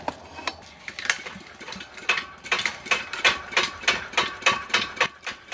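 A small four-stroke engine built as a spinning top, slightly moldy with a broken display, runs on fuel held in its fuel pipe and carburetor, giving a close, steady train of sharp rhythmic ticking pulses over a faint mechanical hum.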